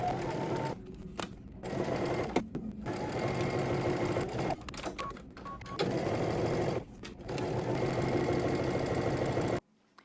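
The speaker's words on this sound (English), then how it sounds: "we're going to head to the sewing machine and we're just going to stitch along the edge" Sewing machine stitching along a fabric edge in bursts of steady mechanical whirring, broken by short pauses between runs, close and fairly loud, ending abruptly in silence.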